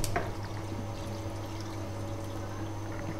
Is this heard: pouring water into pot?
yes